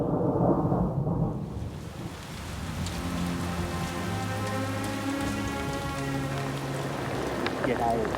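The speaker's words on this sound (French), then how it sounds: "C'est de la grêle" Hail pelts down during a mountain storm, a steady dense patter of ice striking the ground and trees, with thunder rumbling low and people's voices under it.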